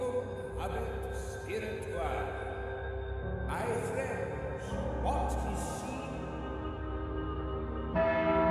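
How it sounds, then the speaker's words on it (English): A ritual chapel bell rings in a tense game scene, its tones hanging under steady ambient music and sustained drones, with faint voices. "As I heard the ritual bell ring for the second time"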